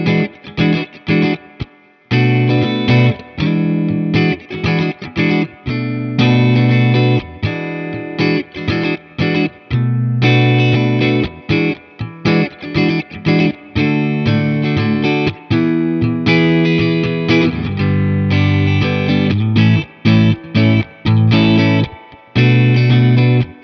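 Clean electric guitar tone from an American-made G&L ASAT Classic in the middle pickup position, hollow and slightly nasal, strummed chords and picked notes in a steady rhythmic pattern, played close and loud.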